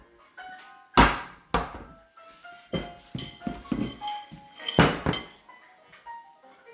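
A carrot is rubbed against a metal hand grater in a kitchen: a few loud, uneven rasping strokes with faint metallic ringing, close by, with no talking.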